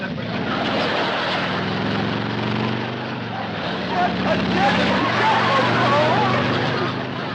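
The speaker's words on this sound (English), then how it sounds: "Some crazy kid's racing up down your driveway on a motorcycle." A motorcycle engine roars steadily up a driveway and toward a house, its harmonic drone shifting in pitch as it moves, loud and continuous with a rural family's voices and crowd-like chatter mixed in.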